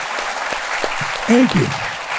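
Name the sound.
audience applause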